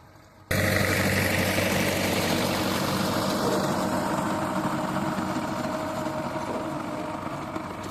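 A heavy diesel tractor engine pulling a rotavator through a field runs steadily at close range, a deep continuous rumble with a dense low throb that holds for several seconds after starting abruptly.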